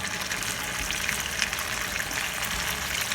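Potato pancakes fry in a pan with oil, a continuous dense sizzle and crackle, fairly loud and close, with no voices over it.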